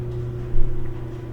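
An empty GE electric dryer hums along after start-up, a steady low motor drone with a brief louder thump partway through.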